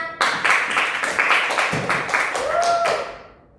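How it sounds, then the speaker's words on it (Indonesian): Students in a classroom physics lesson on Newton's first law give a short round of applause for a classmate, a brisk, close patter of clapping that tapers off quickly. "Beri aplaus dulu untuk temannya."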